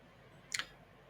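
A single sharp click of a computer mouse, brief and close, in an otherwise quiet room.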